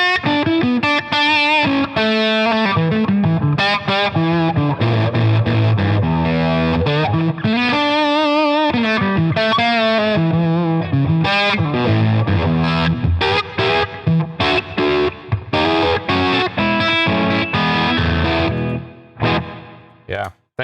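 A 1952 Gibson Les Paul electric guitar with PAF pickups plays a busy run of distorted notes and chords through effects for about twenty seconds, loud and close before it fades out at the end.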